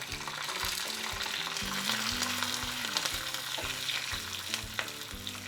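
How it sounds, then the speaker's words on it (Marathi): Curry leaves and a couple of pinches of asafoetida sizzle in hot tempering oil with fried chillies, a steady close crackle with some stirring, and background music playing throughout. "आता मी कढीपत्ता घालते आणि थोडस हिंग घालते दोन चिमूट"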